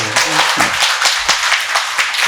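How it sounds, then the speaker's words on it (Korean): An audience at a Buddhist dharma talk gives a short round of clapping, scattered hand claps that swell and thin out, with a voice heard at the start. "박수 한번 주세요."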